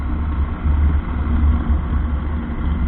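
A Bajaj Avenger Cruise 220 motorcycle cruises along an open road near a bridge, its engine a steady low throb with slight surges, close and fairly loud with wind rush and no talk.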